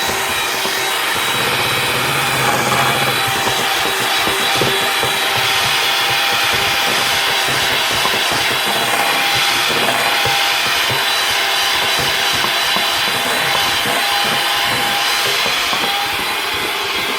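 Cupcake batter for yellow golden cupcakes being mixed, a steady, loud scraping and rubbing that runs without pause and sounds much like a tool working wood.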